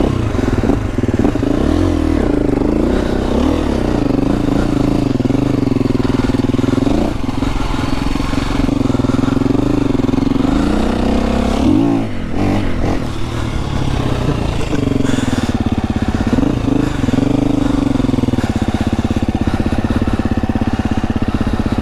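A KTM 350 dirt bike without studded tyres rides through snow, its engine droning loud and close throughout, with rising and falling revs as it accelerates and eases off.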